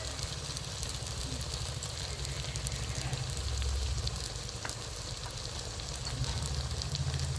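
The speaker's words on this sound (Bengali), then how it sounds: "পেঁয়াজটা, ক্যাপসিকামটা, লঙ্কাটা ভাজা ভাজা হয়ে আসছে।" Onion, capsicum and chili fry in a pan, cooking alongside mushrooms for a chili dish. A steady, close crackling sizzle runs throughout with low rumbling underneath and no talking.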